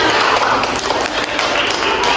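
Classroom applause for a student group, a dense wash of clapping from many hands filling the room throughout, with voices mixed in.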